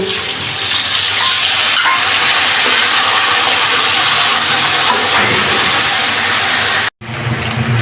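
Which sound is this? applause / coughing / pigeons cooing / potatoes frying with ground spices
potatoes frying with ground spices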